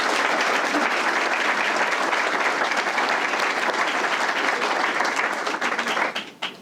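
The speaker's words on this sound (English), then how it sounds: "if you could give them a round of applause, please" A crowd at a police community meeting applauds officers with sustained, dense clapping that holds steady and loud before tapering off at the very end.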